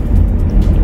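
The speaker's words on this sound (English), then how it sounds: "And it's raining out, so that's the noise of the windshield." Rain drums on a car windshield during a drive on a wet day, a loud, steady wash of noise with low road rumble beneath it, heard alone.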